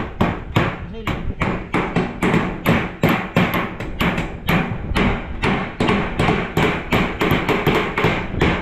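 Rapid, steady hammer blows drive nails into the roof of a hut under construction, a dense run of sharp thuds and taps close by, with a workman's voice now and then over the pounding.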